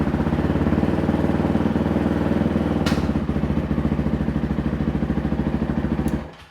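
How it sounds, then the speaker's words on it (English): A carbureted Braaap MX450 motorcycle engine runs close by at a steady, loud, lumpy idle with rapid rhythmic putter, a brief clack midway, then shuts off and fades at the end. "once I mastered the art of starting the carbureted engine"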